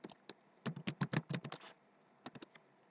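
Bursts of fast key clicks on a computer keyboard while entering a value into a spreadsheet cell, a dense run of strokes followed by a short pause and a few more taps, close and fairly quiet.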